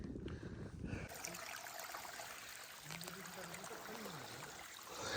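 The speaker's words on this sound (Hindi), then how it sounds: "रास्ते में यहाँ छोटे छोटे से झरने बह रहे हैं जहाँ हमें चलना है।" A small waterfall and stream run beside a mountain trekking trail near Chandranahan Lake, giving a faint, steady trickle of flowing water that lasts the whole stretch after a louder burst at the start.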